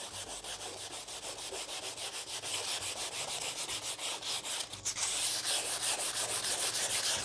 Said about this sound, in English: And it helps with sanding as well.